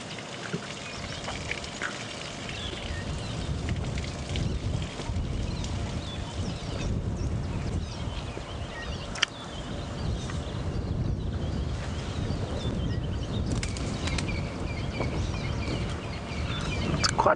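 Steady broadband wind noise buffets the microphone in the open air on an early morning sunrise safari drive near elephants, continuous and fairly loud throughout with no talk.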